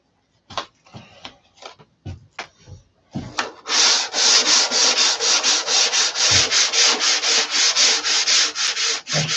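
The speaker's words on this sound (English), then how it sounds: "It's all about sanding now." Wood is sanded by hand, a few scattered scrapes at first, then a steady run of quick, rhythmic rasping strokes, loud and close, with no talk.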